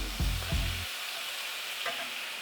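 Marinated Korean short ribs frying in a pan over medium heat, with a loud burst of sizzling and stirring at the start that quickly drops to a quieter, steady hiss.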